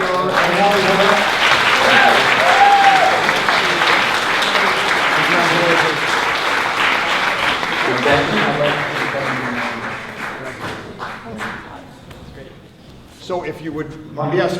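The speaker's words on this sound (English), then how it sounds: "another round of applause for Amy and Holly" Audience applause fills an awards ceremony at a film festival, loud and sustained for about ten seconds, then thinning out toward the end, with some voices mixed in.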